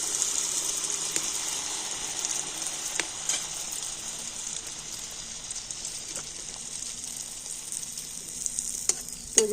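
Poa pitha, soft fluffy fried rice cakes, frying in hot oil give off a steady, fairly loud sizzling hiss that continues unbroken, with a few faint clicks and pops and no voices.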